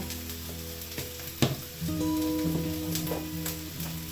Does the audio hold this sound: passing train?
no